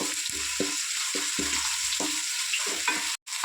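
Ginger garlic paste stir-fries in a pan for chicken 65 pulao, with a spoon scraping in repeated, evenly spaced strokes over a soft continuous sizzle, close by, ending in a brief silent gap.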